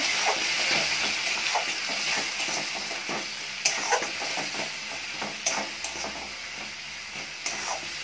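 A spice masala with salt, turmeric and chili powder fries over a high gas flame for a pointed gourd and prawn curry, with a continuous sizzle and hiss broken by scattered stirring clinks.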